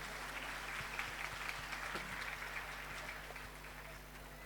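Congregation applauding at a Catholic Holy Mass during an annual national pilgrimage, welcoming priests and sisters; a steady, moderately distant wash of many hands clapping that slowly thins toward the end.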